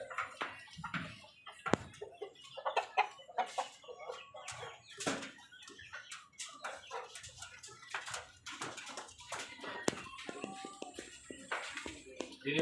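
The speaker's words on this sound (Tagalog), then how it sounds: "Ito, mga panabong" Fighting cocks cluck and scratch in irregular bursts alongside dog barks and whimpers, with people talking throughout at moderate distance.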